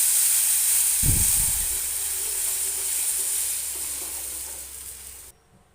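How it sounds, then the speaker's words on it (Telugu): Tamarind juice poured into a hot pan of tempering with curry leaves and turmeric for Telangana-style pachi pulusu, bursting into a loud sizzle that settles into a steady hiss before cutting off. "ఇప్పుడు చింతపండు రసం వేసేస్తున్నాను."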